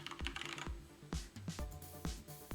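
Someone types an email address on a computer keyboard, a steady run of distinct key clicks and a few heavier thumps, close and clear with no talking.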